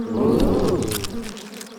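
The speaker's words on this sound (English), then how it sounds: "The wasps are here, and they won't be satisfied until their work is done." Wasps buzz loudly and close by, a droning hum that swells and then slowly fades over a couple of seconds.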